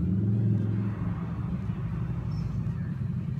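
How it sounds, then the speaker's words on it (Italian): Motorcycles revving outside, a low steady engine rumble with faint rising revs heard at a moderate distance, continuous throughout. "Vabbè, qua ci divertiamo con le moto."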